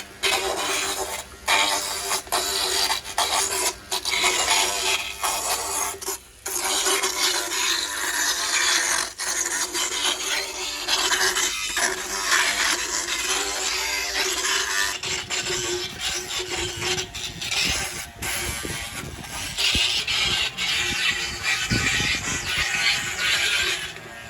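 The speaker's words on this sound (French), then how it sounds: "Donc ça c'est limer les surdents." A rasp files down a horse's overgrown teeth, making continuous rough, rhythmic grinding and scraping strokes close up with brief pauses, and no talk.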